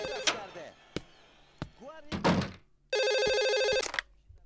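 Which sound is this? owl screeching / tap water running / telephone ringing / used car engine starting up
telephone ringing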